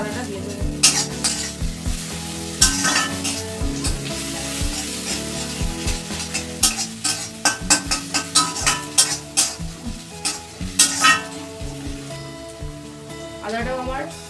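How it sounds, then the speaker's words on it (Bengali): Grated ginger and medium-fried onions sizzle in a pan for Hakka egg chowmein, with repeated scraping stirs and utensil clinks over steady frying and soft background music. "আদাটাও আমার মিডিয়াম ভাবে ভাজা হয়ে গেছে"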